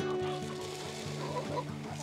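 Rhode Island Red, Dominant CZ F1 layer and Basilan native chickens cluck repeatedly at feeding time, a dense overlapping chorus of short rhythmic clucks close by.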